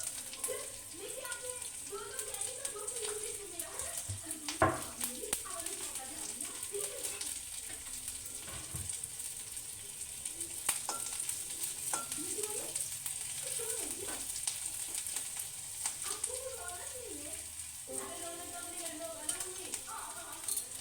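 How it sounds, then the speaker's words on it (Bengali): Chopped ginger and chili sizzle continuously in hot oil while street-style momo filling is cooked at home. The frying hiss stays steady and close throughout, with occasional stirring clinks and intermittent talking over it. "তেলটা গরম হয়ে গেছে, এবার কুচনো আদা আর লঙ্কা দিয়ে দেবো"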